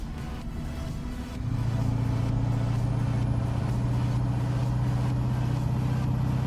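Rough Cat diesel truck engine in a truck driving game on Route 66 through the Ozarks, idling low then stepping up to a loud, steady droning rumble with a faint high whine above.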